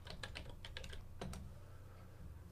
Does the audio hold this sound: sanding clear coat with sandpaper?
no